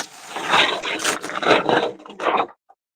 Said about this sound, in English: Little finger sander.